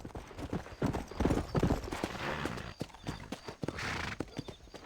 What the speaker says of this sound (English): this horse is pretty